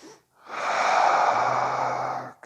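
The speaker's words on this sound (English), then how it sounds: "One more big breath." A long, deep breath taken during a beginner yoga session, one smooth airy inhale-exhale swelling up close and steady for about two seconds before cutting off.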